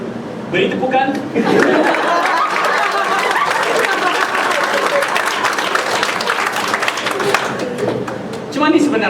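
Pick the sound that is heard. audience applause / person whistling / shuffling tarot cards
audience applause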